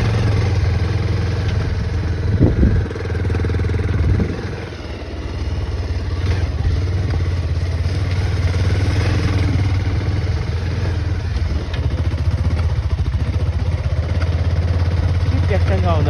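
A motorcycle engine idles close by with a persistent low throb and a mechanical clattering knock, and a person speaks over it at moments.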